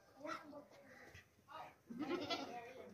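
A plump, healthy desi male goat bleats in a few loud, nasal calls, close by, with someone talking over and between them.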